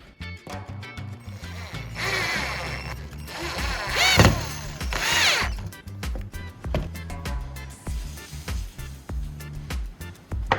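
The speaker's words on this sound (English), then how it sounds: "drive the screws into the holes we drilled in the wooden handle to firmly secure the flange nut" A power drill drives screws into a wooden handle to secure an angle grinder flange nut, with repeated whirring bursts, ratcheting clicks and rising motor whines close by, alone without talk.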